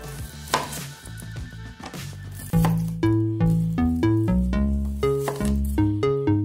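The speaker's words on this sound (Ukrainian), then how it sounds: "В першу чергу приступаємо до нарізання цибульки." Knife chopping onion on a board while preparing enchiladas with minced meat, a run of sharp, even taps close up, slow at first and then quicker and regular, with no talk.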